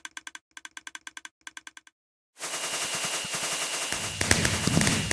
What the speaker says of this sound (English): Yay, fireworks.